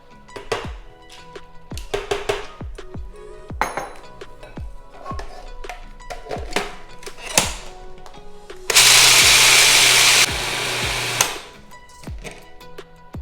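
Food processor blending vegan chicken salad with sunflower seeds: scattered clinks and knocks of kitchenware, then a loud whirring burst of about two seconds that drops in level before stopping.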